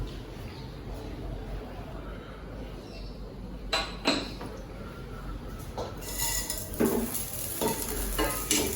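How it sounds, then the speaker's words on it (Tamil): Curry leaves roasting with salt in a pan for horse gram idli podi, a soft steady sizzle and crackle that gives way to louder scraping and stirring clatter from a spatula on the pan toward the end. "கருவேப்பிலை இது வறுபட்டுருச்சு"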